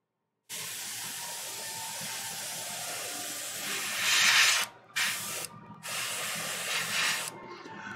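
An airbrush spraying paint onto a Warhammer 40K Magnus the Red miniature, a close, steady hiss that swells, then cuts off and restarts in short bursts.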